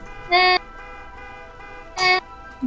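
A voice imitates a car horn with two short, nasal honks separated by a pause, close and clear.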